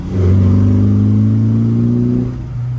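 A Lotus Elan restomod on carburettors drones steadily in second gear at about 3000 RPM, a close, even engine hum that holds for a couple of seconds and then eases off.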